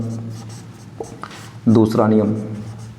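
Chalk or marker writing on a classroom board during a physics lesson, a few short scratchy strokes and taps, with a teacher's voice speaking over the second half.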